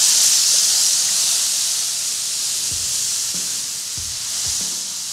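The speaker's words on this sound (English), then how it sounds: "Create a little bit of steam to melt that cheese." Water hits a hot Blackstone griddle and bursts into a loud, continuous steam hiss around burgers topped with cheddar cheese, with a few soft thuds from a spatula or cover.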